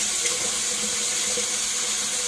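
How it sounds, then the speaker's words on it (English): Warm tap water running steadily into a sink for hand washing, a constant close hiss and splash with no voices. "And then you're going to thoroughly wet and wash your hands with a mild soap"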